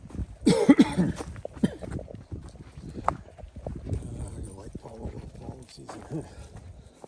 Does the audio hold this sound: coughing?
yes